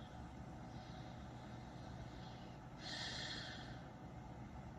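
Labored, snorting breathing from a person lying in bed, faint under a steady low background hum, with a louder raspy snort-like breath rising about two-thirds of the way through.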